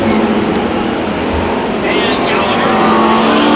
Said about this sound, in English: it is going to be the number 11 machine of Billy Nelson coming out of turn number 4 and taking the victory